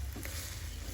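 Green beans and beef stir-fry in a pan, a soft steady sizzle with faint stirring, brief and moderately quiet.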